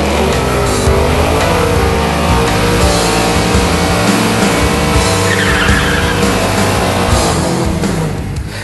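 A drag race car launches hard on Firestone Drag Slick off-road racing slicks, a loud, dense roar of engine and tire noise that holds steady for the whole stretch and fades slightly at the end.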